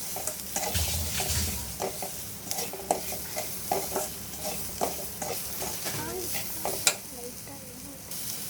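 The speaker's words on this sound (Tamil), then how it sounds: "ஸோ இதை வந்து கொஞ்சம் நல்லா கிண்டிக்கணும்." Vegetables with Maggi noodle masala frying and sizzling in a pan, stirred with a utensil in a steady series of scraping strokes over a constant close sizzle.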